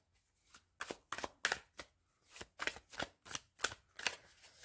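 Tarot cards being shuffled by hand, a run of about ten crisp papery riffles in quick uneven bursts, close and fairly loud against a quiet background with no talking.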